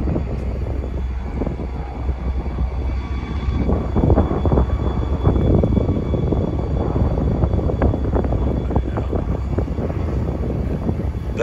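Airplanes circle back low over the Mississippi River, a loud, continuous engine roar that swells and rumbles up close and steady throughout, with no talk over it.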